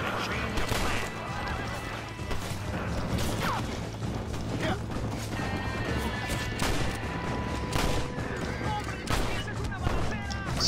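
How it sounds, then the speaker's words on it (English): Gunfire crackles through a chaotic Red Dead Redemption skirmish around wagons, dense shots mixed with horse whinnies and crashing noises, with voices talking over the steady loud din. "Stop shooting me in the fucking back!"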